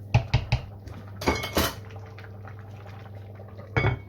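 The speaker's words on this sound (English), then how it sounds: "Make sure you stir all of this in, getting rid of all the stick that's on the bottom of the pan" A spoon stirs braised beef in a pan and scrapes the stuck bits off the bottom: three quick clinks, a couple of scraping passes, a quiet stretch, then another clatter at the end.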